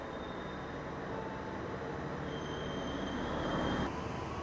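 A long-distance passenger train rumbling past in a steady, continuous roar of wheels and carriages, with a faint metallic squeal near the end.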